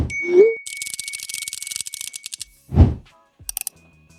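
A notification bell sound effect opens with a short rising swoosh and a clear ringing ding, followed by a quick whirring rattle, a soft thump, and a few crisp clicks.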